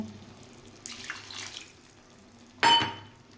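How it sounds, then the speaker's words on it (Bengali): Water poured into a pan of paneer vegetable curry, two short splashing gushes, the second louder and sharper, close against a quiet background with no talking. "আর একটু জল অ্যাড করব"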